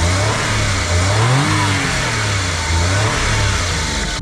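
A Suzuki Alto Works HA22S kei car engine revs up and settles repeatedly, a loud buzzy idle rising and falling in pitch, close by with no voices.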